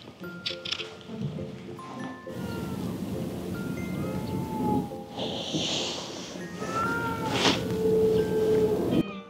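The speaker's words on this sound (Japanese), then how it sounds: "降りたらすぐに早速猫ちゃんに遭遇しました。" A cat met near a ferry waiting area on Genkai Island makes short, faint meows and small vocal sounds amid outdoor background noise, with a few scattered cries through the stretch.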